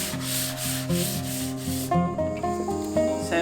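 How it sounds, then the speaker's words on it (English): Light hand-sanding of a wooden bass amp head enclosure with 400 grit sandpaper, rhythmic scratchy strokes close up, with steady tonal music playing underneath. "Got some 400 grit sandpaper. I'm gonna give it a really light go over."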